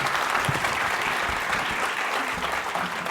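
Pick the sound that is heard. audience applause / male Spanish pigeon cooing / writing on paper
audience applause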